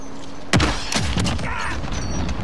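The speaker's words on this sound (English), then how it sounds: "I just sniped two people right in front of my face." Sniper rifle fire in Call of Duty Modern Warfare: a sharp, loud shot cracks and echoes, followed by further thumps and mechanical clatter in a busy game mix.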